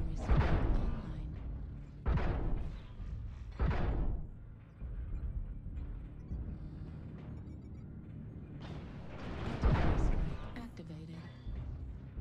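Artillery strike in a video game raining down on an enemy Atlas and a clump of targets: several deep booming impacts at irregular intervals, each with a broad rumbling tail, over continuous low battlefield noise.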